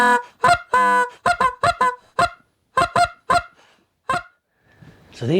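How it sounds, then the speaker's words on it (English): A short-reed duck call blown with tight cheeks gives a run of sharp, nasal honking quacks, about a dozen loud, close bursts in uneven clusters, then a faint rasping trail at the end, with no voices. "Tight cheeks like blowing a duck call."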